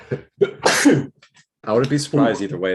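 A single sharp sneeze bursts out in a sports-show conversation, sitting between stretches of close-miked talking.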